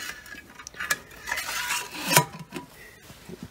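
A metal damper cap being set onto the top vent of a Big Green Egg ceramic smoker, giving a few light metallic clinks and a brief scraping clatter up close, with no talking.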